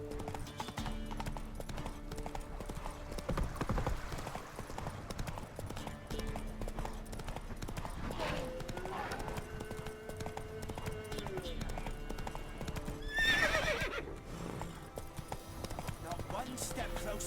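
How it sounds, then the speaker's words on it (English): Rhythmic clip-clop of a horse's hooves galloping in the video game The Witcher 3, steady and fairly close, running under game music and ambient sound with brief voices. "run, Roach."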